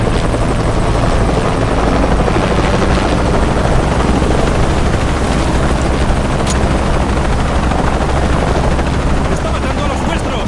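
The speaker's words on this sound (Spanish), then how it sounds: "Odio los helicópteros." A helicopter in the video game Shadow of the Tomb Raider roars steadily and loudly for about ten seconds, its rotor noise constant and close, with faint gunfire and shouted voices mixed underneath.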